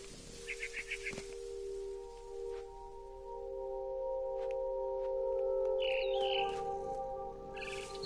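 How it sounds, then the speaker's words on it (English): A bird in the video game What Remains of Edith Finch, heard as short chirps and tweets early and late over a steady tonal game ambience, fairly faint. "Did anybody see where the bird went?"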